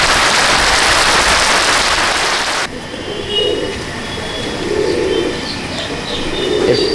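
Pigeons in a Madrasi pigeon loft coo softly in low, rolling bursts after a harsh stretch of rushing noise cuts off.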